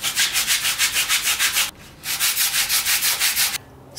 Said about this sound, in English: This thing left some like goo residue, so I'm just trying to get that off. I'll probably sand it.